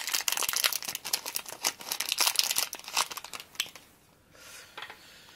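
Plastic wrappers of Rewe Disney Wikkeez booster packs with figures and stickers crinkle and tear open in dense, close rustling for about four seconds, then fade to a few faint rustles.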